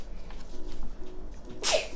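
A single sharp sneeze bursts out near the end, following a quiet stretch of faint room background.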